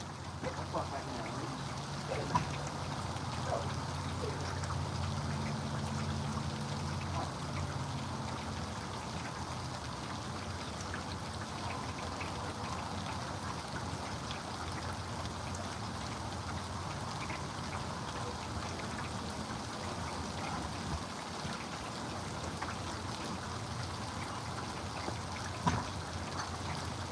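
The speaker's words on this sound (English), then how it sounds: "I thought it stopped raining." Steady rain falling outdoors, a soft continuous patter with occasional louder drips, faint and even throughout, with a voice speaking quietly at times.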